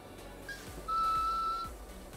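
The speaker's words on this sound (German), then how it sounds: "Du fängst schon an zu pfeifen." A person whistling a short tune over faint background game noise, a few clear thin notes with one sustained pitch in the middle.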